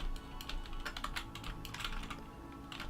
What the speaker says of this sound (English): Maybe I should actually finish typing that.